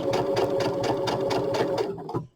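A sewing machine runs a straight stitch while quilting, a close, loud rapid mechanical whir with an even chattering rhythm that slows and stops near the end.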